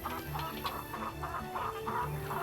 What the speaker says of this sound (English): it's only this chicken that gets angry